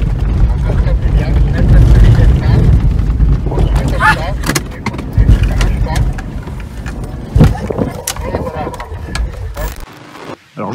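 A Ford Explorer V6 plug-in hybrid SUV is driven hard off-road on a sand dune, its engine and tires rumbling loudly and steadily with knocks and thumps throughout, then cutting off abruptly near the end.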